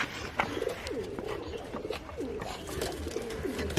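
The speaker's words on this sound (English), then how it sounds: "This is the doves space. So they have doves." Doves coo in their sleeping quarters at a village home, low rounded calls repeating in soft phrases over a busy background of other birds and outdoor noise.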